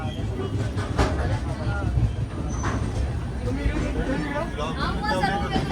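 Steady rumble and rhythmic clatter of a moving train in Kerala, heard from inside a carriage, with people chattering in the background throughout.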